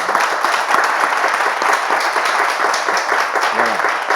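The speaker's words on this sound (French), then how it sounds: "On peut applaudir quand même?" Steady applause from a studio audience on a French talk show, with even, continuous clapping throughout and a faint voice briefly underneath.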